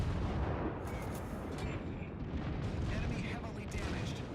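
Cruiser guns on a warship in World of Warships fire repeatedly in a dense, rumbling barrage, heavy booms blending into a constant roar of naval battle with no clear gaps.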